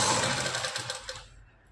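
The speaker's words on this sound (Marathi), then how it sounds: "लेसच्या दुसऱ्या बाजूने स्टिच टाकायची" A sewing machine stitches lace onto the second side of a blouse, a dense loud mechanical whir that rattles along briefly and then winds down to near silence.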